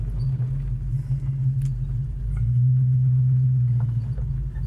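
A 1968 Ford Mustang coupe driving down the road: a steady, loud, close engine rumble with a droning low hum that grows slightly louder partway through and holds, with no talking.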